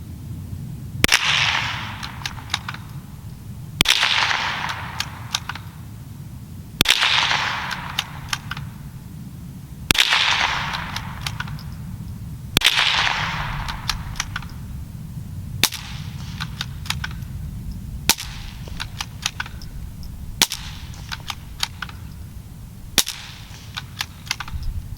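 A .22lr rifle fitted with a suppressor fires about nine sharp, muted shots at a steady pace of roughly one every three seconds, the early ones fuller with a brief tail and the later ones quieter and drier.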